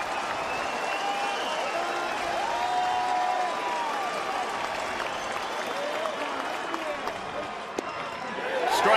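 Baseball stadium crowd of over 17,000 rises with cheering and applause, a broad, steady roar of clapping and voices with a commentator talking over it.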